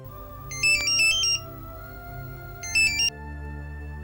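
A phone rings while a call is being placed, sounding two bursts of an electronic ringtone over a steady background hum, with no talking.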